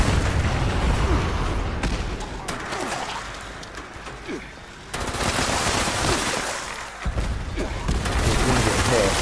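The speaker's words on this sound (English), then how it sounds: "And this is the Gatling laser." Gatling laser fired in Fallout 76, a dense, continuous stream of rapid energy-weapon shots with gunfire-like crackle, loud and sustained with a brief dip midway before resuming at full intensity.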